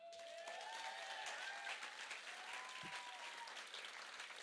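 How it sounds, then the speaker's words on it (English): Steady applause from an audience after a poetry slam, an even wash of clapping with a few whoops, heard at a distance and fairly quiet. "keep that round of applause going"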